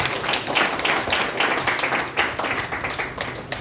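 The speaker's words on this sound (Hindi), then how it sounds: "एक जोरदार और शानदार ताली होनी चाहिए" An audience at a network marketing business event claps steadily throughout, dense overlapping applause with no pauses, fairly loud and close.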